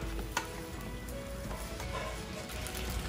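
Cooked vegetables sizzle in a pan for an udon stir fry, a constant close crackling hiss with a single sharp tap of a utensil and soft stirring scrapes.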